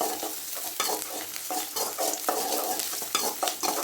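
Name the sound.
onions frying in a pan, stirred until light brown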